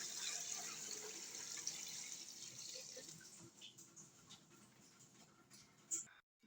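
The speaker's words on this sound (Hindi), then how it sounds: "साथ में हम डाल देंगे पानी।" Water trickles and splashes faintly into a cooking pot for beef yakhni pulao, a quiet running pour with small drips and clinks, briefly louder near the end.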